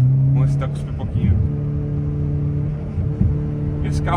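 A 2016 Renault Sandero RS engine held in second gear, still on its original catalytic converter with a full exhaust, gives a steady low rumbling drone with a slight swell in revs, heard close and alone.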